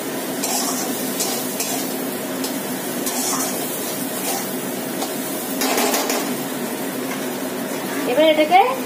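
Potatoes seasoned with salt and turmeric fry in a pan while being stirred, giving a steady soft sizzle with scraping bursts and a faint voice partway through.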